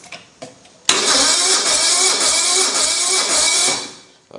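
A Toro Pro engine is cold-started on choke: a couple of faint pulls, then it catches and runs loud and steady for about three seconds before dying away.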